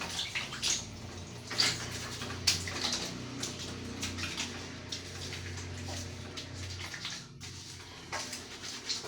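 Water splashing during bathing, irregular close splashes and scooped pours with drips falling in between, moderately quiet and uneven in rhythm, with no talking.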